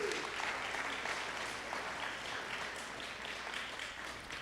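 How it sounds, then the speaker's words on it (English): An audience at a college fall convocation applauds its governance leaders with steady, dense clapping that holds at an even level throughout. "Let's give them another round of applause."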